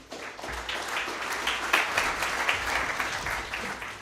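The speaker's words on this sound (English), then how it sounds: "a round of applause for Luke Johnson" Audience applause at an evening event welcoming Luke Johnson, a steady wash of clapping from many hands that rises around the midpoint and carries on unbroken.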